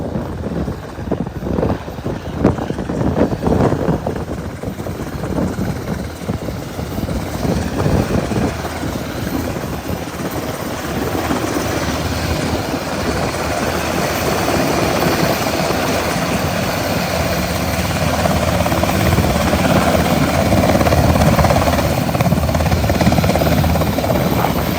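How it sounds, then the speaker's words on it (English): A Black Hawk helicopter descends close by onto a hospital roof, its rotor chop and turbine roar steady and loud, with heavy wind buffeting the microphone as it lands. "This is another Black Hawk helicopter coming down right now."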